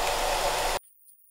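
A hair dryer runs with a steady, loud broadband whoosh close to a Rode NT-USB microphone, then cuts off abruptly into near silence.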